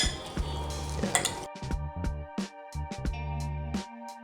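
Seasoned, peppered beef stirred in a pot for a Pinoy-style French beef stew: irregular metallic clinks and scrapes of a utensil against the pot, with faint sizzling under them.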